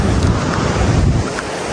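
Strong wind buffets the microphone with a low roaring rumble, steady and close throughout, with no voices.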